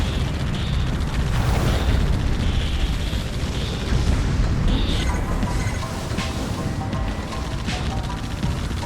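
An ammunition stockpile blows up in the video game Blood Wake. A loud, sustained roar of explosions rumbles without a break, with crackling debris and smaller pops layered on top throughout.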